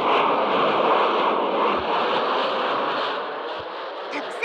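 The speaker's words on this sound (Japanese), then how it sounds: "ジェット機の音" A jet airliner roars with a broad, steady rushing noise, loud and close, holding for several seconds before easing slightly, with a brief voice at the end.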